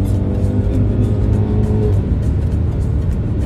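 Mercedes C400 4MATIC with 330 horsepower driving in sport plus mode: a steady, loud engine and road drone heard from inside the car, with a rising engine tone that drops away as the gearbox changes gear.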